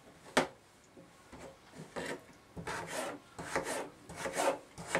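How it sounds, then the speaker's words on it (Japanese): A kitchen knife cuts a carrot into quarter-round slices on a board, giving a string of crisp, close chopping and scraping strokes in an uneven rhythm, with no voices. "じゃあ人参切りましょうかね。 人参はそうですね、じゃあいちょう切りにしますか。"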